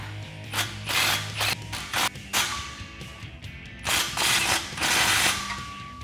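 Ratcheting and wrench clicks sound in bursts as clamps are tightened on a Flowmaster American Thunder cat-back exhaust for a 2009-2014 Challenger 5.7L, close and fairly loud with short pauses between runs.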